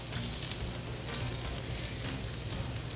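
Scallops searing in hot oil give a dense, steady sizzle that is loud and close and continues without a break, with no talk.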